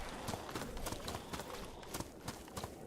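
Coconut-style clacking imitating horse hooves in the DayZ video game, a rhythmic clip-clop of sharp hollow knocks repeating steadily at a trotting pace, fairly close and clear.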